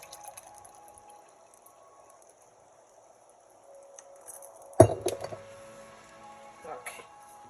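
A glass of water is prepared for taking a tablespoon of cold remedy. Faint handling noise leads to one sharp clink of glass, then a few smaller rattles and a later light tap.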